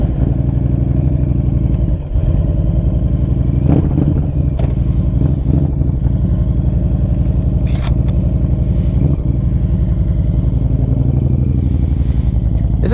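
A 2010 Honda Stateline cruiser engine rumbles loudly and continuously on a test ride, a deep throbbing drone with small swells as the throttle shifts, close up and with no talking.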